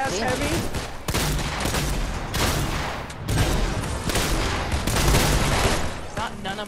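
Rapid gunfire in Fortnite, dense bursts of automatic shots and blasts overlapping almost continuously, loud and close, with a player's voice talking over the fire.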